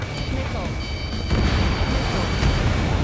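A missile strikes a player's F/A-18F jet in Ace Combat 7: a burst and boom at about 1.3 seconds swell into a louder roar, with radio voices talking under tonal cockpit warning beeps.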